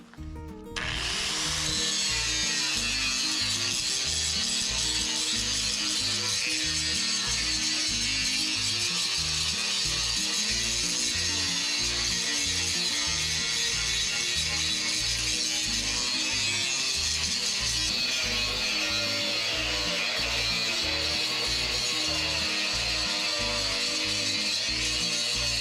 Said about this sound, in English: So we're going to start to grind this off.